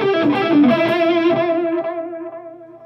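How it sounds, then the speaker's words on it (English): Electric guitar through a Line 6 Helix with reverb switched off, the last notes ringing out as delay repeats that trail away and grow cleaner, fading alone with no other sound. "So you can hear there, when I stopped playing, the delay's got noticeably cleaner with every repeat."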